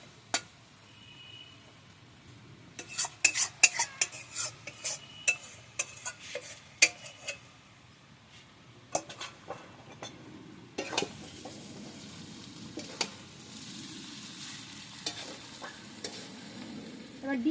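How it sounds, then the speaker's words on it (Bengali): Fried soybean chunks being stirred into chow mein in a pan: repeated clinking and scraping of a spatula over a soft continuous sizzle, stirring strokes in bursts, close and fairly loud, no talking. "সোয়াবিনটাকে ফ্রাই করে রেখেছিলাম, এটা এবার মিশিয়ে দেবো।"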